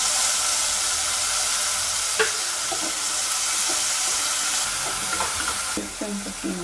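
Chopped tomato hits a pan of browned onion and fries with a dense, loud sizzle, broken by a few sharp utensil clicks and scrapes near the end; no speech.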